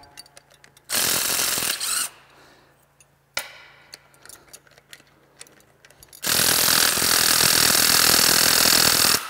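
Impact wrench spinning off exhaust manifold bolts on a CAT C15 diesel engine, two loud bursts separated by quieter clanks and rattling tool handling, the second burst longer and sustained, with no talk.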